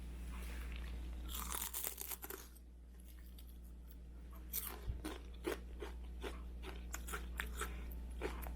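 Sharp, crisp crunches of someone biting into cooled crispy fried seaweed chips, scattered bites and chewing close to the microphone over a low background hum.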